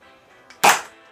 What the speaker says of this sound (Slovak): Základ je teda Nerf pištolka, ktorá strieľa cez tlačidlo.